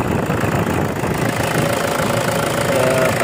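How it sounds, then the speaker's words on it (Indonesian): Diesel engine of a 2010 Toyota Innova idling steadily with a knocking, clattering rhythm, loud and close, a continuous rumble with no talk over it. "Oke, ini mesin sudah nyala."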